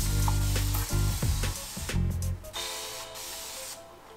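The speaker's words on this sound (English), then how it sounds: "Fire out that spray, so satisfying." A Koh cleaning spray bottle firing cleaner, a few quick pump hisses and spritzes close to the microphone, followed by quieter handling noise.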